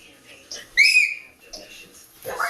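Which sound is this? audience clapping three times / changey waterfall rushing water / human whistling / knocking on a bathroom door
human whistling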